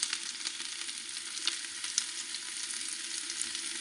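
Chopped tomatoes sizzling in a pan of cooked onions for a tomato curry, a steady loud crackle with stirring scrapes through it, no voices.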